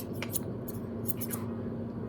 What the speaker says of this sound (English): And they sounds like hair cutting scissors.